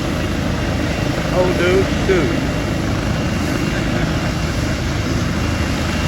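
A Life Link medical helicopter spools up for takeoff in a Walmart parking lot, its steady rotor and engine roar filling the air continuously, with a crowd nearby and someone speaking briefly over the noise.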